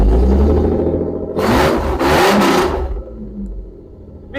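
A car engine with a loud, faulty exhaust revs hard in a surge, rising to a raspy roar for a moment and then falling back to a rumbling idle, close and loud.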